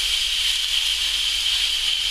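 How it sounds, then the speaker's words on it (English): Rump steak searing in a smoking hot pan, a loud, steady, continuous sizzling hiss with no talking. "that's the sound of you searing the steak."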